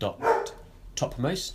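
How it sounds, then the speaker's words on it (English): A dog woofs indoors during a programming lesson, a couple of short barks mixed in with someone talking close by. "Excuse the dog woofing."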